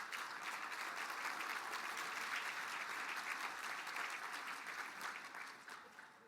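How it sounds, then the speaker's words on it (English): An audience at a tribal State of the Band address applauds in a steady, dense wash of many hands clapping, heard somewhat distant and quiet and easing off at the end, with no talk. "Let's give them a round of applause,"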